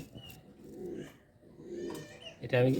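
A racer pigeon coos in low, throaty bursts close by, with soft rounded calls rising and falling before a louder, busier flurry at the end.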